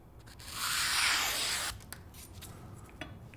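A 100,000-yen knife drawn once across a whetstone in a single rasping stroke, followed by quiet with a few faint ticks.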